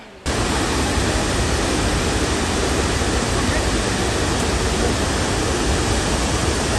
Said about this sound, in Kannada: ಈ ವಾಟರ್ ಫಾಲ್ಸು ಕೇರಳದ ಲಾರ್ಜೆಸ್ಟ್ ವಾಟರ್ ಫಾಲ್ಸು